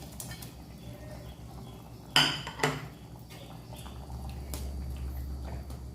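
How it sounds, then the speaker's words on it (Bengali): Fried koi fish being dropped into a simmering curry in a pan, two sharp, loud clatters and splashes close together, followed by a quieter bubbling simmer. "ঝোলটা ফুটি গেছে দিয়ে দিচ্ছি ভেজে রাখা কই মাছগুলো"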